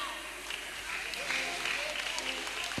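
Clapping from a crowd as children leave a Sunday school Christmas party in a church, steady moderate applause mixed with voices and hall noise.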